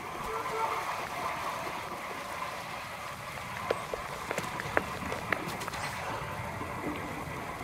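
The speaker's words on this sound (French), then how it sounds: "Un moulin d'eau." Water runs steadily past a water mill in the video game Ghost of Tsushima: a continuous rushing wash with a few brief clicks, heard at a moderate distance under faint background voice.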